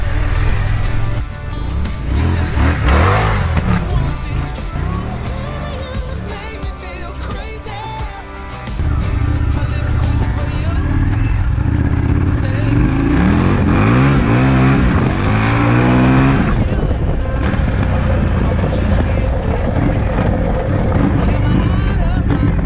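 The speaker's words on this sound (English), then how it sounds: "the FTR1200, the V-twin engine is absolutely unbelievable on this" An Indian FTR1200 motorcycle's V-twin engine runs loud and close, revving up and down through rising and falling pitch sweeps over a sustained throaty drone; a voice seems to talk beneath it at times.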